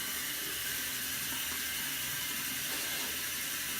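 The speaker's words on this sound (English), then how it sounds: "Okay, time to rinse." Water runs steadily from a tap while hair is rinsed, a continuous broad hiss with no break.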